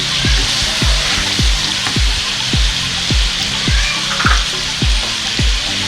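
Chicken sizzles steadily in ginger garlic paste for biryani, loud and close, while a spoon scrapes the pan in a regular rhythm about twice a second with no talking.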